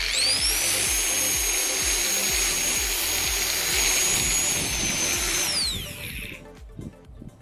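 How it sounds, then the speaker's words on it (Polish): A loud, high-pitched whine of an angle grinder fitted with zip ties, trimming grass and running steadily close by, with rapid chattering underneath, then cutting off near the end. "Otrzymasz mini kosiarkę do przycinania trawy."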